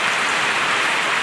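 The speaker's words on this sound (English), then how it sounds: "It is a miserable night. It is raining, it is cold" Rain falls on a cold, miserable night, a steady broadband hiss of drops pattering without pause, close and even throughout.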